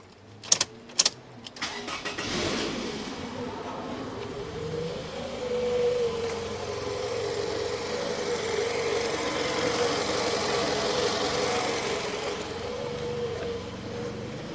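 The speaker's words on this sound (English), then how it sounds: "let me show you what happens when I try to turn over the engine with it unplugged" A car engine with its mass airflow sensor unplugged: a few short clicks, then cranking that catches, settling into a steady, slightly uneven idle close by for the rest of the time.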